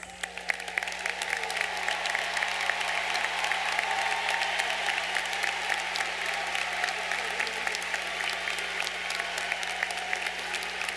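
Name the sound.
audience applause for graduates with Latin honors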